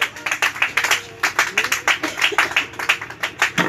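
A church congregation applauding in praise, quick sharp claps in an irregular rhythm that swell and dip, fairly close and loud.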